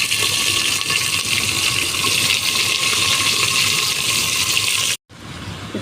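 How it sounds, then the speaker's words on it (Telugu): Water pours steadily into a cooking pot over halved tamarind pods for an old-style okra and tamarind stew, a dense continuous splashing gush that runs for about five seconds and then cuts off abruptly. "ఇప్పుడు కాయలు మునిగే అంత నీళ్ళు వేసుకోవాలి."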